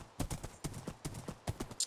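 Horse hooves in Minecraft, a quiet, regular clip-clop of hoofbeats at a walking pace, evenly spaced soft knocks with no voices.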